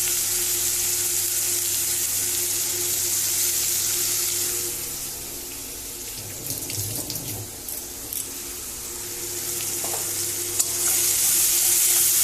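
A ground paste of onion, garlic, ginger and tomato sizzles in a pan, a loud continuous hiss with a brief dip and some stirring scrapes partway through, and no voices.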